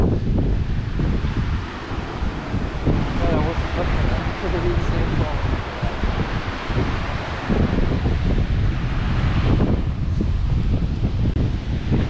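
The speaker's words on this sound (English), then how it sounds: "Dangerous waves. I wonder if they do come up here." Ocean waves and wind at Rocky Valley in Cornwall make a continuous washing roar of surf, heavily buffeted by wind gusting across the microphone, with the swell rising and falling slightly.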